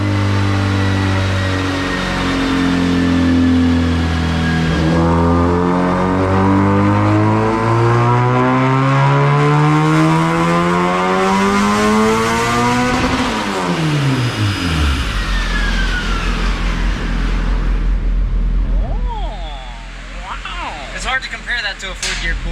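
A turbocharged Honda D16 engine in a Vitara-swapped EF hatch screams through a sustained fourth-gear dyno pull, pitch climbing steadily to a peak before dropping off and settling into a loud rumbling idle with turbo flutter at the end.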